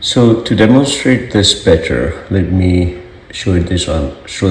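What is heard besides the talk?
None of the usual background noises is heard.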